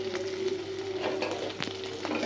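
Taro flowers sprinkled with sugar fry in a pan with a soft, steady sizzle and a few faint stirring scrapes, heard close but quiet.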